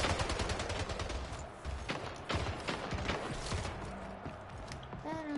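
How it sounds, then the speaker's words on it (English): Rapid gunfire from a video game match, with dense overlapping shots and mechanical clatter at steady loudness, a sniper headshot somewhere among them, with faint voices under the din. "360 headshot. With a sniper."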